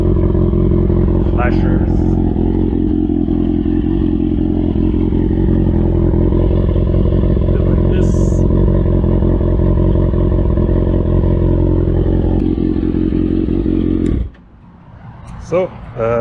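A Kawasaki Ninja ZX6R sport bike idles loud and close with a steady, dense drone that holds for about fourteen seconds before cutting off sharply, with a brief word spoken over it and some light clatter.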